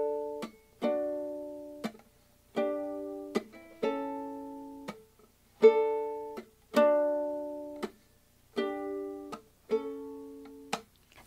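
Ukulele fingerpicked notes and chord arpeggios, each plucked pattern ringing and decaying in a steady, unhurried rhythm, clean and close with no voice over it.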